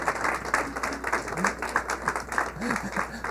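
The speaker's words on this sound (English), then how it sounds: "Can I get a round of applause, please, for Chef Tom's Soil Moisture Sensor Cupcakes?" An audience gives a round of applause at a live-streamed event, a brief burst of scattered clapping at moderate loudness with voices mixed in.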